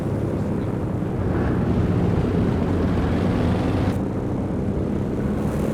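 A plane drones overhead in the Company of Heroes 2 World War II strategy game, a steady, loud engine rumble lasting the whole stretch with little change in level.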